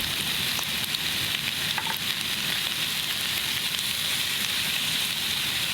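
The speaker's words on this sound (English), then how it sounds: "drop in the pork belly. And we're going to cook the pork belly on medium heat" Pork belly sizzles and spatters steadily in a hot pan over medium heat, a constant crackling hiss close up with no talking.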